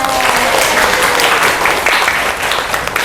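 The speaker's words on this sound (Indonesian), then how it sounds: "Tepuk tangan" Classroom applause after a student's correct answer in a lesson on volume units, a short burst of many hands clapping together at fairly steady loudness, close by.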